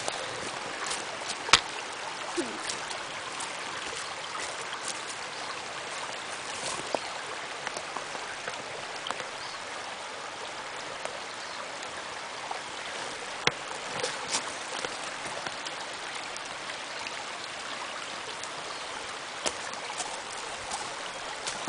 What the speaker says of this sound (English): it gives you a good look at the creek